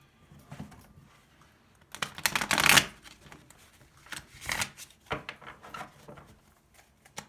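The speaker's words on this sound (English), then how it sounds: "going to do one quick shuffle." Close-up riffling of tarot cards in several bursts, one long brisk shuffle followed by shorter flicks and taps, no talking.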